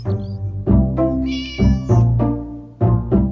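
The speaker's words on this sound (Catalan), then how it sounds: "Com cada matí, el gat de la senyora Rosina s'ha escapat." A cat meows repeatedly, about six close, loud, drawn-out calls in an uneven rhythm, some rising into higher whining tones, with no talking.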